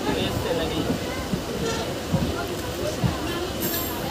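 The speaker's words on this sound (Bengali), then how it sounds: "ট্রেনটি এখন তার ট্র্যাক চেঞ্জ করে চলে যাচ্ছে সিঙ্গেল লাইনের ওপরে" A passenger train runs along a single-line track on the Digha to Nandakumar route, with a steady low rumble and faint periodic wheel clacks heard from inside, while a voice talks over it.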